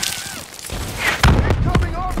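A grenade bursts in Black Ops III with a low boom and rumbling tail, amid game noise and clipped voice callouts.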